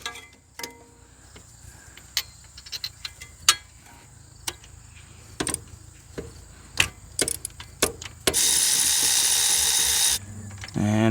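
A ratchet wrench works a spark plug loose on a pre-merger AMG engine from a Mercedes chassis code 126 after 27 years of sitting: scattered close clicks and clatters of tools, then a burst of loud rapid ratcheting near the end.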